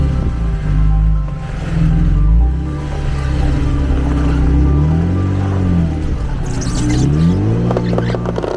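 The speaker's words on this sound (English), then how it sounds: "you can hear my tire starting to rub up against my fender flare" Vehicle on an off-road trail near Margaret Lake, with a low droning engine and a grinding, rubbing rumble as a tire scrapes against the fender flare while the suspension flexes, continuous and fairly loud.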